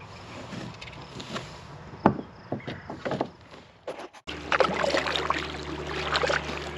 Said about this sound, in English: I'm paddling to where I'm gonna fish this evening